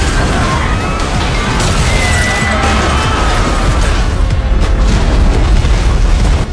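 Cinematic destruction of the Golden Gate Bridge by a tsunami: sustained loud rumbling crashes, booming impacts and grinding metal debris rolling on for several seconds before cutting off abruptly.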